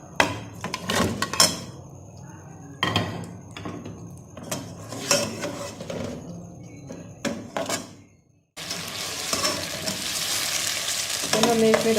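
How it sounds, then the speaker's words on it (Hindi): Chicken frying with ginger garlic paste for pulao, stirred vigorously in a pan: repeated scraping strokes over crackling sizzle, then a sudden dense, loud continuous frying hiss near the end, with no talking. "अदरक लहसुन की पेस्ट के साथ हम इसमें चिकन ऐड कर देंगे।"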